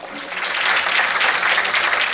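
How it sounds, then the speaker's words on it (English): An audience at a youth competition show breaks into dense, steady applause that swells and holds loud for a couple of seconds. "Round of applause for her, please."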